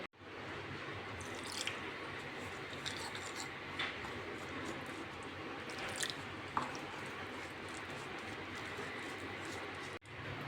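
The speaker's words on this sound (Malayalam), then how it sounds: "ഇനി ആവശ്യത്തിന് വെള്ളം ഒഴിച്ച് നന്നായിട്ടൊന്ന് മിക്സ് ചെയ്തെടുക്കാം." Wet, squishy stirring of thick masala batter for vegetarian fish fry carries on steadily at close range, with occasional soft clicks and drips.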